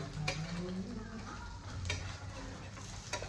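Quiet sizzling of shrimp frying on two pans, with a few sharp clicks and scrapes of stirring over the steady hiss.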